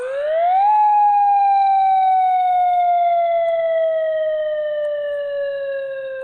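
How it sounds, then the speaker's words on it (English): Hawaii's emergency sirens sound during a test, a single loud wailing tone that rises quickly, then holds and slowly sinks in pitch, ringing out alone. "the US state of Hawaii has begun testing its emergency sirens"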